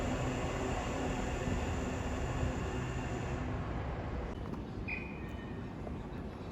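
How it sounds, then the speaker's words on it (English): A pair of Southeastern Class 465 electric trains pulls into a London terminus bound for Charing Cross. Their steady broadband rumble holds for several seconds, then eases slightly as they arrive, with no talk. "a pair of Southeastern 465s coming in for London Charing Cross"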